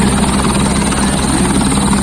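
Heavy, continuous helicopter rotor and engine noise fills the whole stretch, loud and steady with a rhythmic thumping underneath, as the helicopter lands on the Amarnath Yatra route.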